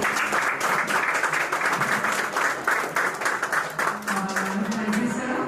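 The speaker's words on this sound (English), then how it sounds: "Let's give a huge applause to him." An audience at an alumni jubilee meet breaks into applause, a dense run of clapping hands with some individual claps standing out, fairly close and continuous, with a faint voice entering near the end.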